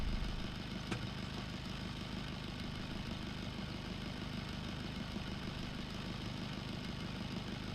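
A car engine in the driving game BeamNG.drive drones steadily at a constant pitch, a low, even hum with no pauses and no voices over it.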